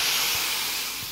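Hot oil tempering hits spinach dal with a steady, loud sizzling hiss that holds through the whole moment and fades only slightly toward the end.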